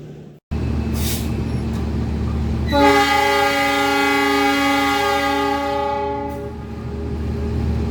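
The Argo Muria passenger train departs from an Indonesian station. A loud, sustained horn with a rich harmonic chord blares for several seconds over steady engine rumble, then fades back into the continuous hum.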